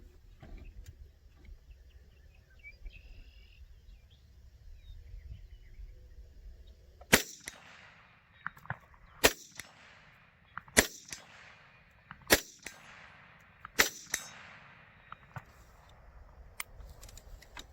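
A Chinese Type 56 SKS rifle fires six sharp shots at an even pace, spaced about a second and a half apart and heard from some distance, after several quiet seconds of faint background rumble.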